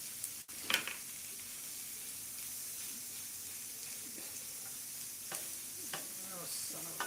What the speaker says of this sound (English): Ooh, that sizzled up right away.